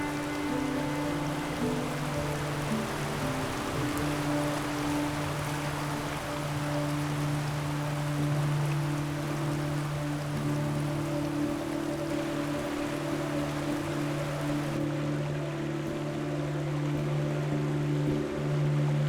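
Steady storm rain on the Big Sur coast hisses continuously with a low droning hum underneath, a broad, even wash of sound with no voices.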